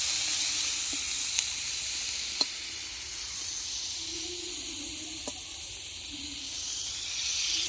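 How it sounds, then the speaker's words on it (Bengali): Prawns frying lightly in oil over a clay stove for a village-style malai curry, a steady soft hiss with a few faint clicks and spatters, moderately quiet and without voices. "তাই অল্পই ভেজে নেব"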